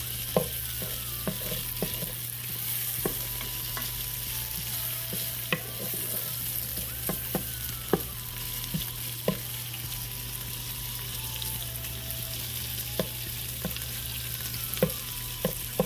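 Leftover sausage frying in a non-stick pan with other ingredients: a constant low sizzle with an electrical hum beneath and scattered clicks of a utensil stirring, close and unhurried.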